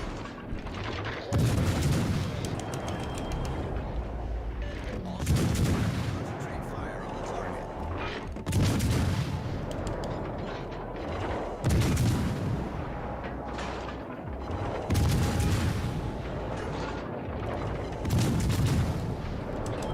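Bombs exploding in a naval warship video game, a series of heavy, deep booms arriving in repeated bursts every few seconds, each trailing into rumbling debris, with a player's voice talking over them.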